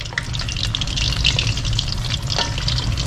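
Tofu skin rolls stuffed with pork sizzle steadily in hot oil, the oil kept stirred and swirling so the frying crackles densely and evenly throughout.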